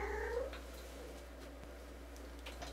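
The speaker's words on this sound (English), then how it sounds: "she just keeps meowing and meowing" A house cat gives a short meow at the start, then a soft, low rumbling purr continues faintly nearby over a steady indoor hum.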